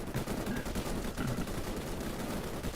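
Sustained machine-gun fire in a video game, dense rapid bursts roaring continuously and loud for the whole stretch with no pauses.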